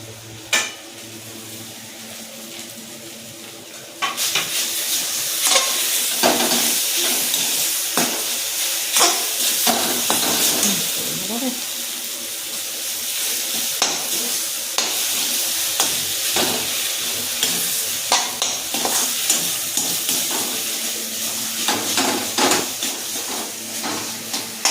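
Fresh chhana and cashews frying in a pan for a potol dorma filling, quiet at first, then a loud, continuous sizzle with frequent scraping and stirring clatter, no talking.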